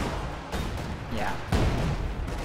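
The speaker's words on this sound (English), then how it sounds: "High explosive barrage from the field gun" A field gun fires a high-explosive barrage in a video game, with several heavy booming blasts in quick succession, the loudest near the end, under a steady rumble and a faint voice.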